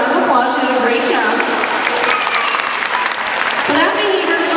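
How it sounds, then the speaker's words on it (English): An audience at a zoo dolphin show at Brookfield Zoo claps loudly and continuously after the dolphin's performance, with cheering voices and a few shouts mixed into the dense applause. "let's give her a round of applause"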